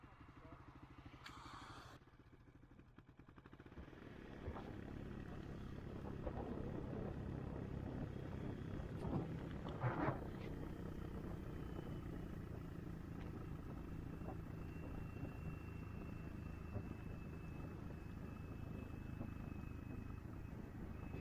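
A Honda Monkey motorcycle riding downhill on a backcountry trail, its small engine a steady muffled drone with wind rush throughout, close and continuous.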